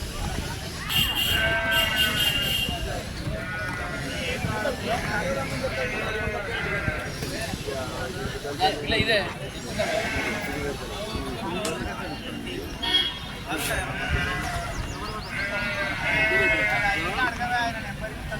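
A large flock of sheep mixed with a few goats bleats repeatedly at close range, overlapping calls rising and falling throughout, with people's voices murmuring in the background.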